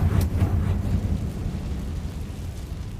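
A Confringo spell blast in Hogwarts Legacy, heard as a deep rumbling boom that rolls and fades into a low, noisy tail over a few seconds.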